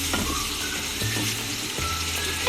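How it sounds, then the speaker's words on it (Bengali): Two kinds of fish sauté in a hot pan, producing a dense, continuous sizzle broken by occasional spatula knocks and stirring clicks, close and steady with no voices. "এখন আমি মাছগুলোকে কষিয়ে নেব।"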